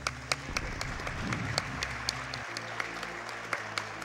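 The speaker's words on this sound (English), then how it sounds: "I love the fact that you guys know when to clap" An audience at the SGDQ 2018 marathon applauding during a Super Metroid speedrun, a brief spread of clapping over game sounds and music, moderately distant and soft.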